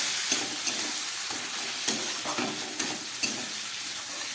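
Spice masala with a little water and tomato pieces fries in a pan, a steady sizzle broken by regular scraping strokes of a spoon stirring, close and without speech.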